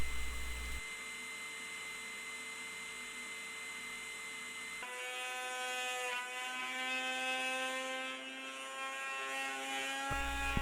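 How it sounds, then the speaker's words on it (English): An oscillating sander smooths the edges of pine 2x4 boards for a doll cradle, giving a steady, close electric motor whine that shifts pitch partway through, with no voices. "Over to the oscillating sander to clean up our edges."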